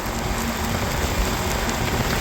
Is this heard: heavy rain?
yes